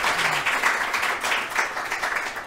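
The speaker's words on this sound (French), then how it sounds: "je pense qu'on peut les applaudir." Applause from a room audience at a training workshop, a steady wash of many hands clapping at moderate level for a couple of seconds with no pauses.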